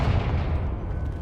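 A Confringo blasting spell is cast in the video game Hogwarts Legacy, a dense, loud, low rumbling burst of explosive noise filling the short moment without speech.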